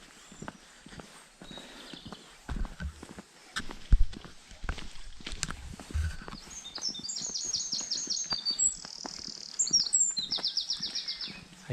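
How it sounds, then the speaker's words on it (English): Birds sing and chirp during a chilly morning walk along a disused railway line toward Forest Row, with repeated high trilling calls growing clearer in the second half over footsteps and faint outdoor ambience. "it's another peaceful morning with the birds singing"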